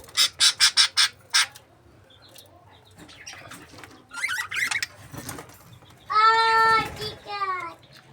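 Budgerigars in a mini zoo cage give a run of rapid, bright chirps up close, then scattered calls and a burst of warbling, harmonically rich chatter with faint rustling between.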